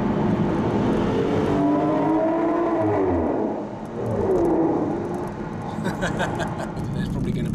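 An Aston Martin DBS engine roars and revs up and down as the car slows, a loud, steady, rumbling drone heard from inside the cabin.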